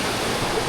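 A river flows steadily through a natural campsite area, giving a continuous, fairly loud wash of rushing water with no voices over it.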